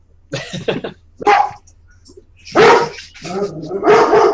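A pet dog barks loudly and close by indoors while fireworks are going off, giving several sharp bursts in irregular clusters, some short and clipped, others longer and fuller.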